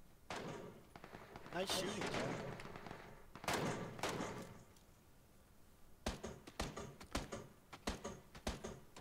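Gunfire in a PUBG-style shooter game: sharp distant-to-mid shots and thuds scattered through, with bursts of rapid cracks toward the end, under people talking.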